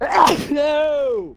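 A single loud, close sneeze bursts out, followed immediately by a drawn-out spoken exclamation from a player during a Rainbow Six Siege match.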